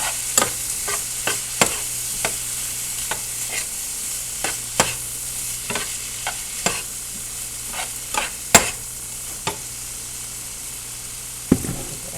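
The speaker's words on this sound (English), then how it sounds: "Make sure y'all keep stirring this." A spoon repeatedly scrapes a pan as leftover chicken and shrimp seasoned with onion and garlic powder are stirred, with steady clinks and scrapes over a soft continuous sizzle, close up, without talk.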